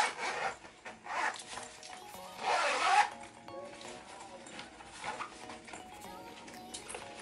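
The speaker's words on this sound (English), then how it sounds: "zippers" Zippers being pulled on a gray-lined, soft suede-like laptop case with a handle for a 13-inch MacBook Air, giving a few close rasping runs, the longest and loudest in the middle, amid light handling rustle.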